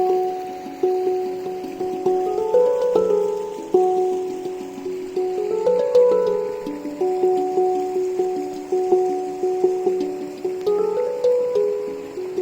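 Rain dripping from an oak tree in the Ardnamurchan countryside of Scotland, heard as irregular close drops plinking with a faintly pitched, watery tone, steady throughout with no voices.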